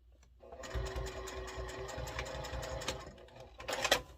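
A sewing machine top-stitches around a small fabric case, running in a steady, fairly quiet rapid patter for several seconds, with a few louder clacks near the end.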